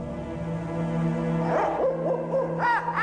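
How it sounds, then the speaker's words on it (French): Night birds hooting like an owl: several short, bending hoots come in the second half over a steady tonal hum in the background. "Déjà, on peut entendre les oiseaux de nuit chanter leur sinistre chantillon."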